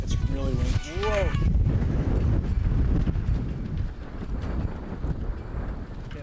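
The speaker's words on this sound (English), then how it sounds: "It's really windy." Strong wind buffets the microphone on a rainy street in Urawa, Japan, a steady broadband roar that starts after a brief voice and continues loud throughout, with a short exclamation near the start.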